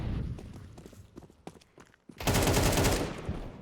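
Pistol gunfire in a professional Counter-Strike esports match: scattered sharp shots and footsteps give way to a loud, dense burst of rapid shots that fades out at the end.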